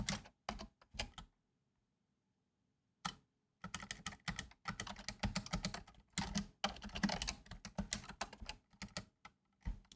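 Rapid bursts of typing on a computer keyboard, close and clear, with one long pause early on before the clicking resumes and continues densely to the end.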